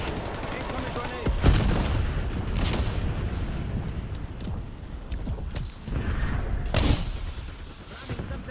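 A grenade explodes in a first-person shooter, one sharp close blast followed by further booms and scattered gunfire with a continuous battle rumble underneath, and another heavy blast near the end.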